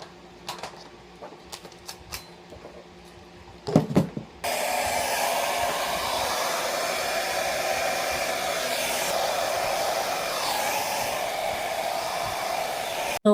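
Hair dryer blowing hair, starting after a few seconds of light handling clatter and then running as a loud, steady whoosh close by for the rest of the clip.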